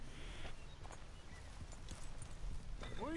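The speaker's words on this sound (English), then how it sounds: "Bro, you ain't getting on my horse." Horse hooves clip-clop at a steady walking pace in Red Dead Redemption 2, a continuous close rhythm of soft thuds over ambient game noise, with a brief bright tonal sweep near the end.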